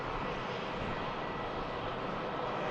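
EasyJet airliner departing Manchester Airport heard as a steady, loud broadband jet-engine roar that holds constant throughout, with no talk over it.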